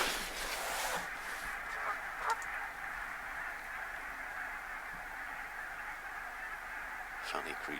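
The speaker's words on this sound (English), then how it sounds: "Geese have suddenly got excited." Geese on the Humber in winter start up with excited honking calls, heard at moderate distance in short bursts near the start and end over a constant background drone, with some speech also present.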